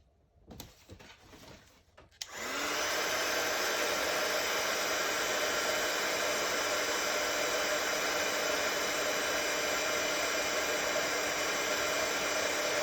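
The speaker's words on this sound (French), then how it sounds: "on va reprendre à nouveau notre pistolet, refaire un petit peu de bruit" A heat gun used in making a pop-up card starts after about two seconds of faint handling noise, then blows with a loud, steady, even hiss that continues unbroken to the end.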